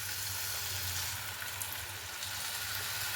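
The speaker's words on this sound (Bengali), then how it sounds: "আলুটা দেওয়ার পরে সামান্য কষে নিলাম।" Potatoes sautéing in a pan over a gas flame, giving a steady, close sizzle and crackle that holds evenly throughout with no voices.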